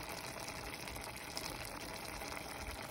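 Water pours steadily into a pot of elk burger chili with tomato sauce, a continuous gushing splash heard up close with no talking.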